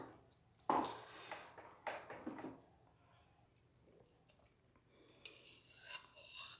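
A spoon stirring ghee into Akkaravadisal sweet in a pot, with a few quiet scraping strokes near the start, then faint rustles.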